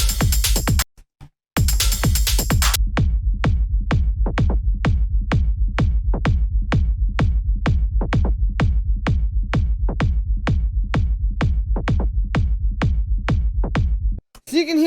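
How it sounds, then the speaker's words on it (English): Layered techno kick drum with a rumbling bass tail pounds in a steady four-on-the-floor pulse, loud and dry, after a brief stuttering start, with no voices. "So I'll play you my kick that I have here."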